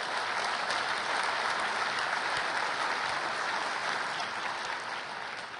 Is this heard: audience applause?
yes